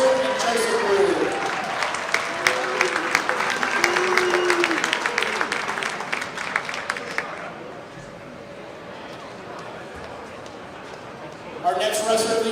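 A crowd at a high school wrestling dual meet between Tonganoxie Chieftains and Pittsburg Purple Dragons applauds a wrestler and family in a gym, with dense sustained clapping that fades after several seconds while an announcer's voice comes through underneath.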